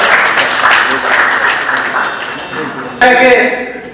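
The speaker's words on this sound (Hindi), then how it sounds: "तालियों के साथ स्वागत" An audience at an industrial association gathering in Kurukshetra, Haryana, applauds to welcome guests, with loud sustained clapping that fades a little, then a speaker starts talking over the last of it.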